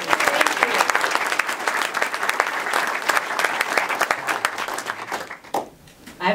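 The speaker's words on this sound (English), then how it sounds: "I think we need to give the organizers a round of applause" An audience at a community talk event claps for the organizers, a dense burst of applause that holds steady for about five seconds and then fades out.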